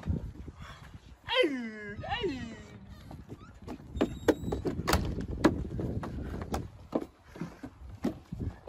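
A dog gives two rising whimpering yelps and then short barks. Thumps and door-like clatter sound close by, with a person talking in the background.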